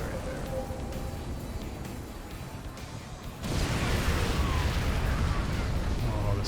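Massed nuclear strikes in a strategy video game go off behind enemy lines, a quieter rumble giving way midway to a sudden sustained roar of layered blasts and crackling bursts that continues loud to the end.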